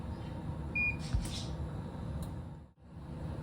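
A short electronic beep from an air fryer finishing over a low background hum, followed by a faint clatter.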